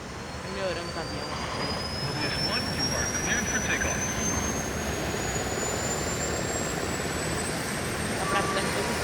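In Ace Combat 4, an F4F fighter plane's engine gives a steady, loud jet-like roar with a rising whine that holds for the whole stretch, while a voice talks faintly underneath.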